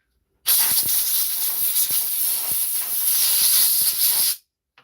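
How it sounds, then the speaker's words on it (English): A steady, loud aerosol hiss runs for about four seconds, broken by a few faint clicks, then cuts off abruptly into silence. "Sometimes with contact cleaner, the thing will not go after you spray it in."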